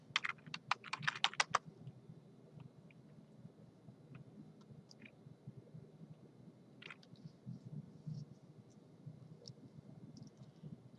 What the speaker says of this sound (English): we'll go ahead and put in our password